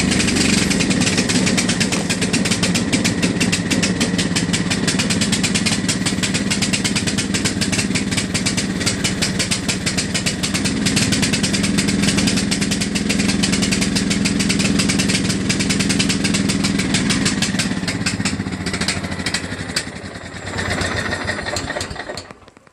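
A John Deere LA105 lawn tractor engine runs steadily and loudly with the mower deck engaged, its choke stuck closed and running rich, droning continuously before dipping near the end.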